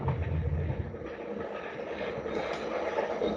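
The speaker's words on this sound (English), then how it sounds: "I heard the train." A train passes near a house, a steady low rumble with faint rail clatter throughout, heard at a distance with no talk.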